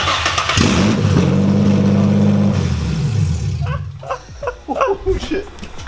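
An Infiniti G35 fitted with test pipes cranks and fires up loud and close, settling into a raspy idle before cutting off, with excited voices talking over the end.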